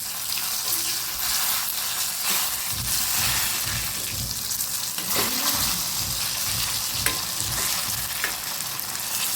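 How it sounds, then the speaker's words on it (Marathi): Brinjal curry being stir-fried in a pan, with a steady close sizzle and frying hiss overlaid by repeated scraping and stirring strokes of a spatula against the pan, continuous and fairly loud with no talking. "चांगल्या प्रकारे फ्राय करून घ्यायचे."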